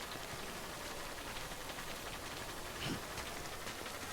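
Steady rain falls throughout in the video game Death Stranding, a constant broadband hiss of downpour with a brief brighter rustle near the end, no voices.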